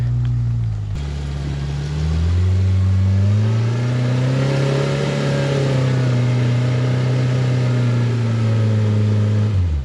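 Engine of a Toyota rock buggy revving as it claws up dirty rocks off-road, a loud sustained droning roar that rises and dips with throttle changes, close and continuous for the whole stretch.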